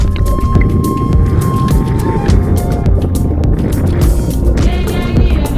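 Strong wind buffets loudly and continuously over the sea in the Maldives, with heavy low rumbling and gusty roar, as if out on open water.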